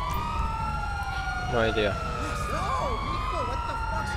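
A police car siren in a video game wails with sweeping, rising and falling tones under radio chatter and a brief spoken reply, moderately loud against background engine noise.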